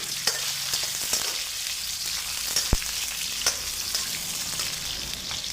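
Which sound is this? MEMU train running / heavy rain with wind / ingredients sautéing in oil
ingredients sautéing in oil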